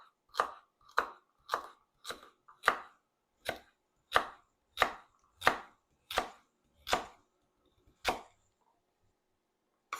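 Knife chopping a carrot on a cutting board for cabbage soup, about fifteen crisp, evenly spaced cuts, close and clear with no talking.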